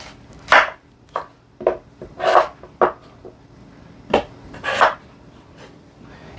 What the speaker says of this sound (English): we're going to just chop these up, just roughly chop them.